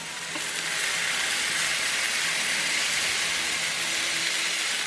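Smashed burger patties sizzle loudly on a hot griddle in a steady, hissing crackle with no talking.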